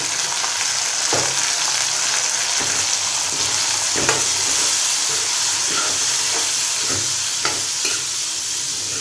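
Turkey berries, field beans and spices with turmeric sauté in a pan for a traditional kuzhambu, giving a loud, constant frying hiss broken by regular scraping strokes of a spoon stirring through the mix.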